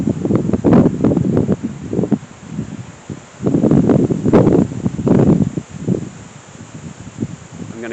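Strong wind gusting outdoors, buffeting the microphone in loud rumbling surges that rise and fall in waves, with no voices.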